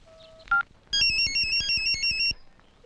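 A phone call in a Kannada film: a couple of quick dialing beeps, then a bright, repeating electronic ringtone trill that rings steadily for about a second and a half before stopping, with no voices over it.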